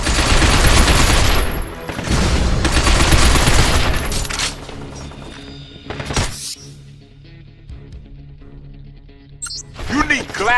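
Gunfire in the video game Binary Domain: dense, loud bursts of shots for the first few seconds, a sharp blast near six seconds, then quieter rattles and a final burst, with voices talking over the action.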